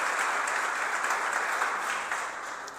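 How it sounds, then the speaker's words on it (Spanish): A church congregation applauds during a sermon, dense sustained clapping from many people that fades slightly toward the end. "Apláudele al Señor si le vas a aplaudir."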